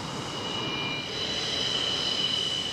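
F-4 Phantom fighter jet engine roaring in a steady, loud whine and rumble that swells slightly toward the end, heard alone.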